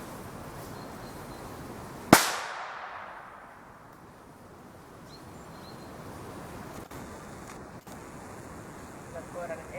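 One loud gunshot bangs early on during an outdoor dog temperament test in Kangasala, Finland, and rings off into the distance, followed by steady outdoor ambience with faint rustles.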